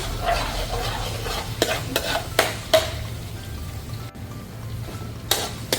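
Garlic frying over medium heat for crab spaghetti, a steady low sizzle with occasional scraping stirs and sharp utensil knocks against the pan, close up and with no talking.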